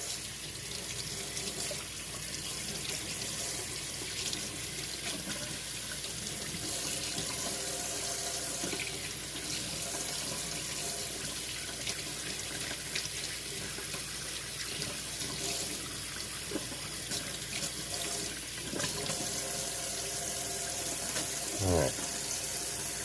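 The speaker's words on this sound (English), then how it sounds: "We're going to rinse that out of there." Tap water runs steadily into a sink while a freshly cleaned trout is rinsed under it, a continuous close hiss and splash with occasional clinks and a brief voice near the end.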